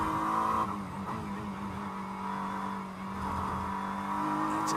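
GT race car at Sebring International Raceway during qualifying, engine held at steady high revs flat out through a fast section, a loud continuous drone heard from on board with a slight shift in tone midway.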